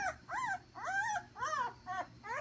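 A young puppy held up in the air and tipped upside down gives a run of close, high whimpers and whines in short rising and falling bursts, about six cries over a couple of seconds.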